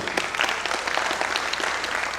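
An audience claps for a cast member introduced after a stage play, a steady burst of dense applause filling the short span with no voices over it.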